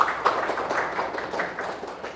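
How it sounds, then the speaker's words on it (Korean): Church congregation applauding during a Sunday worship service, a steady patter of many hands clapping at moderate volume for about two seconds. "박수로 하면."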